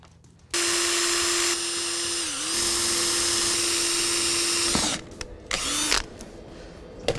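A power drill runs continuously for about four seconds while boring holes in a DIY battery box charger, with a steady high whine that dips briefly under load, then short bursts as it stops and restarts.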